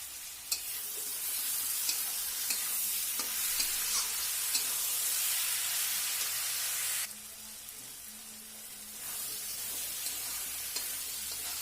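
Tomatoes sizzle in a pan with potatoes and okra for aloo bhindi, a steady hiss of frying with occasional soft stirring clicks, dropping briefly quieter midway before resuming.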